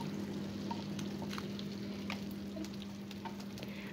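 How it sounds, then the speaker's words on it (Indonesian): Garlic frying in oil in a pan, a steady close sizzle with a constant low hum underneath and a few light scrapes and pops, no talking. "Lanjut, kita tumis terlebih dahulu bawang putihnya."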